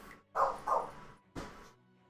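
Dogs barking nearby indoors, two quick barks in succession and then a third after a pause, moderately loud with no talk.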